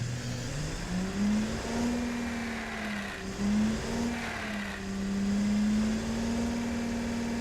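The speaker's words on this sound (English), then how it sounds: "Actually, you can hear the induction of the air here after 2000 RPM." Engine air induction on a stock car engine being tuned, held above 2000 RPM: a steady throaty drone with a hollow intake whoosh, rising and dipping slightly in pitch with the revs, close and continuous.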